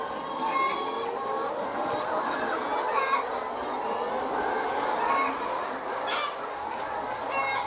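Nourish Sebastar Cross layer hens on a poultry farm of about 5000 birds, a dense, continuous chorus of clucking and squawking from many chickens, steady and fairly loud throughout.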